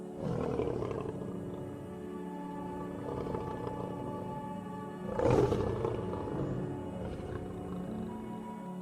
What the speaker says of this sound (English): This is the jaguar.